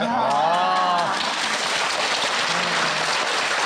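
Steady applause from a crowd, dense clapping filling the whole stretch, with a faint voice briefly audible near the start.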